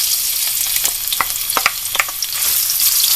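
Ginger sautéing in hot oil as the first step of chicken tinola, a dense, steady crackling sizzle with sharp popping bursts and no talking.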